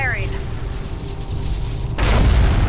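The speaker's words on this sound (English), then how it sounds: "So yeah, they gave us an ion cannon." An ion cannon fires in the space strategy game Homeworld: Deserts of Kharak, a sudden deep boom that erupts at once and rumbles on over a dense background of game effects.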